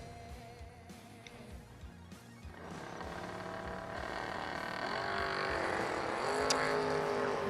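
A third-generation Camaro and a 1969 Camaro launch side by side at a drag strip, engines building into a loud, sustained roar that grows over several seconds with broadband racing noise.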